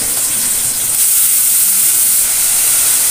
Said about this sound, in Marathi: त्यानंतर आपण घालायचा इथे बारीक चिरलेला कांदा